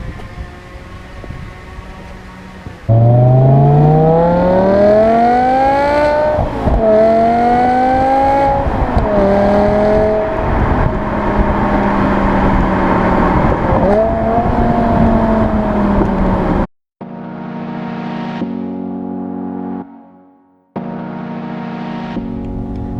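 A BMW E60 M5 engine revving hard through the gears while driving, pitch climbing and dropping with each shift, loud and close, with a brief cut in the middle.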